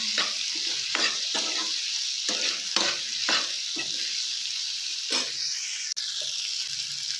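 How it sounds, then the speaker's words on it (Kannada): Tomatoes with salt being stirred in a pan for green peas curry, giving repeated scraping strokes over a steady, close sizzle of frying with no voices. "ಇವಾಗ ಚೆನ್ನಾಗಿ ಮಿಕ್ಸ್ ಮಾಡ್ಕೊಳ್ಳೋಣ."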